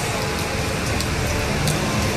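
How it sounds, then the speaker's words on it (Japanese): Heavy rain pours steadily during a flood as the Asato River overflows, a dense, loud, unbroken hiss with no talk over it. "雨めっちゃ強くなってきてるし"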